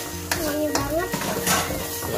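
Spicy nasi goreng stir-fry being stirred in a pan until dry, continuous scraping and clinking of utensil on metal over a low sizzle, with voices talking underneath.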